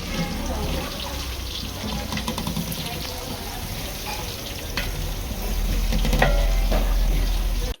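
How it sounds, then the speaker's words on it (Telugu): Spring onions frying in oil in a pan, a continuous close sizzle with scraping stirring strokes that grows louder toward the end, faint running water in the background. "ఇప్పుడు ఇవన్నీ ఆయిల్లో ఫ్రై అయ్యేటట్టు బాగా అయితే మిక్స్ చేసుకోవాలి"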